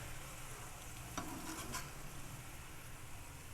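Ginger garlic paste frying with minced beef keema on a tawa, a steady soft sizzle with occasional stirring scrapes, fairly quiet and continuous with no talking.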